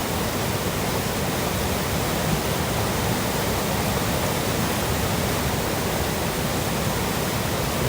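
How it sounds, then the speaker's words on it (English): Powerful Dartmoor river rushes in a loud, constant roar of broadband water noise, close and unbroken, with no voices over it. "The river was like just super duper powerful."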